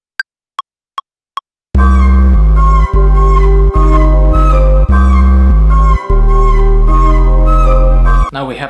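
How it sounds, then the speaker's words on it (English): A Minecraft sound sample pitched down 40 semitones, EQ'd and processed with effects, playing as a sustained, loud, buzzy low tone in a choppy repeating rhythm with short gaps, preceded by four sharp ticks. "So basically, I pitched down the sample by 40 semitones, EQ'd it, add some other effects"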